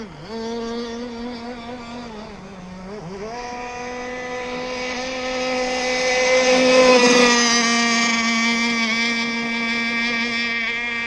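ZippKits Vbox RC gas boat running warm-up laps, its small two-stroke engine droning steadily with a high buzzing whine that dips briefly, then revs up louder and holds a strong, continuous pitch throughout.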